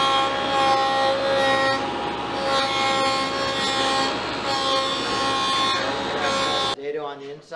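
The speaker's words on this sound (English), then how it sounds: "Okay, so I'm going to rabbet this whole edge, holding it down." A table saw cuts a rabbet along a wooden edge, the stock held against the fence by magnetic featherboards. A loud, steady, buzzing whine runs for about seven seconds, then stops abruptly.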